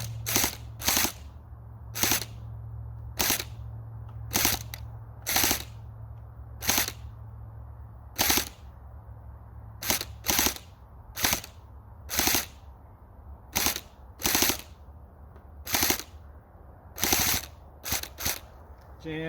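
A hard gel blaster fires single shots during an accuracy and range test, sharp close snaps spaced irregularly, sometimes in quick pairs, over a low background hum.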